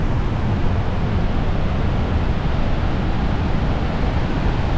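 Iguazu waterfalls in Brazil, a massive steady broadband roar of falling water, loud and unbroken throughout with no talk over it.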